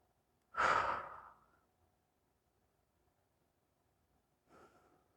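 Deep yoga breathing during a vinyasa flow twist: one long, loud exhale near the start, a stretch of quiet, then a softer breath at the end, with no talking.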